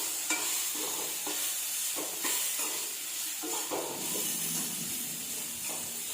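Chutney ingredients with a little coconut sautéing in a pan, a soft continuous sizzle and hiss broken by occasional scrapes and clinks of a stirring spoon, fairly quiet and without voices.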